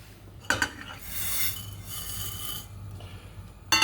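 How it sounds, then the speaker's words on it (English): Dry lentils and spices rattle and scrape in a frying pan as they are stirred and lightly roasted, with a faint sizzling hiss and occasional metallic clinks; no talking. "So we're going to be very lightly roasting this in the frying pan."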